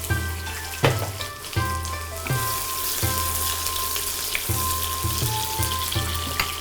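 Vegetables and red onion sizzle and fry in a pan for pad thai, a steady close crackle broken by several stirring clatters, with no talking.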